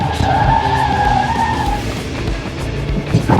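Goodyear-shod vehicle taking a corner hard without braking, with a loud sustained tire squeal and skid over steady engine and road noise, fading toward the end.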